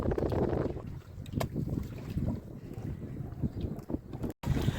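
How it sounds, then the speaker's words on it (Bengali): Strong pre-monsoon storm wind in the Sundarbans buffets the microphone in heavy, uneven gusts, a low roaring rush with a short dropout near the end. "প্রচণ্ড হাওয়া বন্ধুরা, আজকে প্রচণ্ড হাওয়া।"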